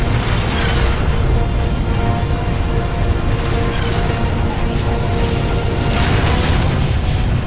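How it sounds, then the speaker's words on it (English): Long-range missiles slam into a mech hangar in the game MechWarrior 4: Vengeance, producing loud, dense rumbling booms and crashing bursts that surge repeatedly across the whole stretch. "Incoming LRMs, get clear. Look out, get out of the hangar!"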